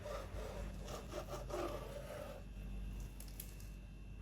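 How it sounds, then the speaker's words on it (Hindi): A knife cuts through a cooled, set slab of gram flour pakora mixture, making soft rasping strokes in quick succession for about two seconds before the sound fades to quiet. "जब ठंडा हो जाए इसकी कटिंग कर लेंगे।"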